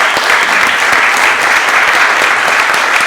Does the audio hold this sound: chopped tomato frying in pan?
no